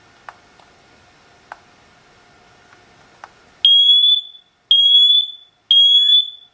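A SITERWELL hardwired interconnected smoke detector sounds its test alarm, three loud, piercing high-pitched beeps in even rhythm after a few faint ticks and clicks.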